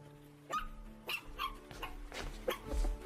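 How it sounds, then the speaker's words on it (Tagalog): A wet puppy, soaked from heavy rain outside, gives several short whimpers and yips in quick succession, close and fairly soft, with faint room noise between the cries. "Hala, tuta!"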